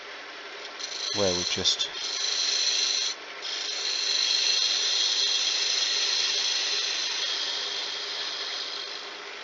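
A woodturning gouge cuts a wooden coaster blank spinning on a lathe, a steady close scraping hiss that holds for several seconds after a brief stuttering start, with a few spoken words near the beginning.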